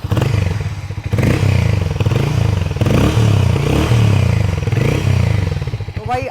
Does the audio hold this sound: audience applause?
no